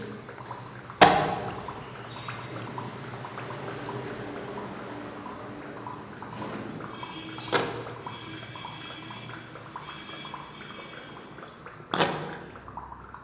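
A sharp pop sounds as hydrogen gas ignites in a classroom acid experiment, followed later by two softer pops, each a brief crack standing out against a quiet, faintly hissing room.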